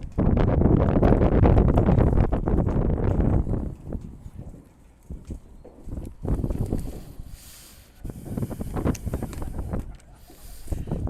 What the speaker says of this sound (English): a very windy start here to the game today.